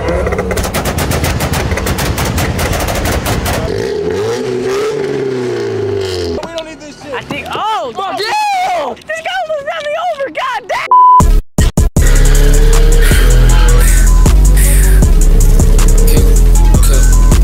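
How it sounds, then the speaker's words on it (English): A Mazda Miata engine revs hard with rapid two-step launch popping and crackling bursts from the exhaust, loud and close, followed by more revving and sharp bangs. "Why are you revving my car, bro? If I want to, then it sounds good. My turn to rev."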